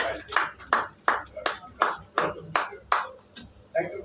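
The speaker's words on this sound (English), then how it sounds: "let's give them another round of applause" Evenly spaced, sharp handclaps at an evening talk in Kolkata, about ten in a steady rhythm roughly every third of a second, close and distinct rather than a full crowd roar.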